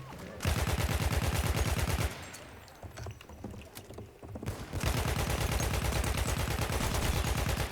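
Battlefield 1 video game gunfire: long, loud automatic bursts with rapid, evenly spaced shots, broken by a quieter stretch of scattered single shots before another sustained burst resumes.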